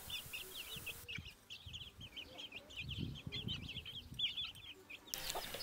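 A rooster in a garden clucking in quick repeated bursts, fairly close and moderately loud, with a brief background shift midway and no speech.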